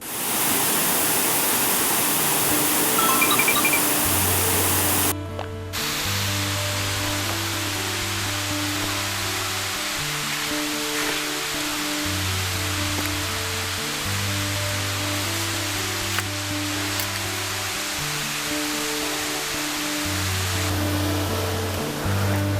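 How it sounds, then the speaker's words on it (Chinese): Wufengqi Waterfall in Yilan roars as a steady, dense wash of rushing water, constant and enveloping, beneath a gentle background melody with no voices. "五峰旗瀑布。"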